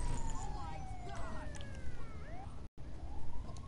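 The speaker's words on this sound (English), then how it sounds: "and the ambulance is coming" An ambulance siren wails in a street-crime video game, its rising and falling tones sweeping over a dense, noisy background with a brief dropout near the end.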